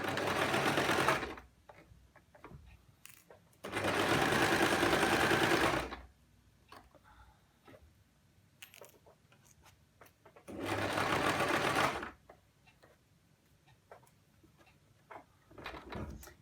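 A sewing machine stitches a ruffled skirt in three loud, close bursts of a few seconds each, separated by quieter stretches of small clicks and handling noises.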